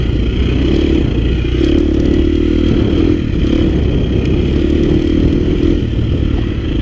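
A KTM 350 XC F four-stroke dirt bike engine runs steadily and loudly close by, a dense continuous mechanical drone with slight rises in revs and no talk over it.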